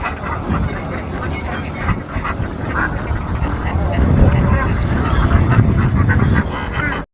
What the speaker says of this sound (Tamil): கூட்டம் கூட்டமாக மேயும் வாத்துக்கள்